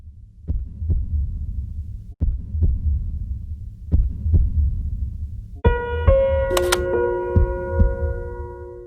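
A deep heartbeat sound effect thumps in steady double beats, loud and close, with a sustained tonal hum and a bright chime entering over the last few beats.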